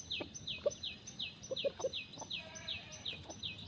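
Breeder chickens, hens kept with a rooster, give repeated high chirps in a steady pulsing series with a few soft clucks underneath, fairly close but quiet against a low background hum.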